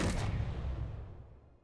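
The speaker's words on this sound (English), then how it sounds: "3 assault cannons at once" Three assault cannons in a video game fire together in one heavy booming blast that rumbles loud and close, then decays slowly over about a second and a half with no talk.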